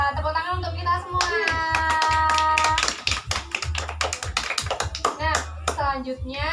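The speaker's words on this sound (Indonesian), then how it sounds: "Tepuk tangan untuk kita semua." Classroom of fourth-grade primary school pupils clapping hands together in a rhythmic burst, close and fairly loud, with a teacher's voice and singing-like children's voices over the claps.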